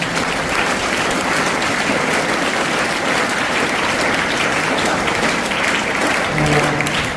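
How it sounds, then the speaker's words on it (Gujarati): Parents at a school marksheet distribution ceremony are given a loud, sustained round of applause from a full audience, dense clapping filling the room without pause. "જે વાલી છે ને અહીંયા ઉપસ્થિત એના માટે એક જોરદાર તાળીઓ આપણે પાડીએ"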